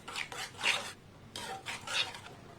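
A spice paste is stirred into eggplant in a pan over low heat, heard as two bursts of scraping, rasping strokes with a short pause between them and a soft sizzle underneath.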